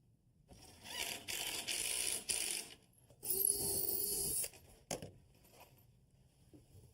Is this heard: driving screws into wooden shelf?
yes